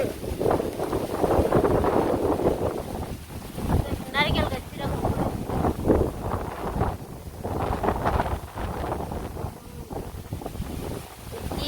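Strong wind blows hard and continuously, roaring and buffeting the microphone in rough gusts throughout, while people talk underneath it.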